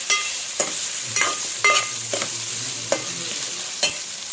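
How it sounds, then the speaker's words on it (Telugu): Keema curry fries in a pan under a constant hiss, with a series of crisp spoon scrapes and taps spaced a second or so apart, near and clear, with no talking. "శుభ్రంగా మొత్తం కలిసేదాక మొత్తం మిక్స్ చేయండి"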